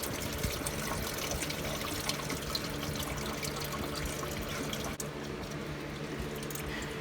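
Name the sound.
coolant draining from Porsche Boxster engine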